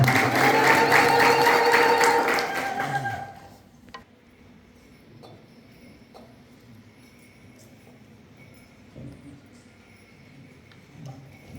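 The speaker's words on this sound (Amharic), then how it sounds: "አጨብጭቡላቸው።" Loud applause from an audience at an Orthodox church wedding ceremony fills the first few seconds, then fades out, leaving a quiet room with faint scattered noises.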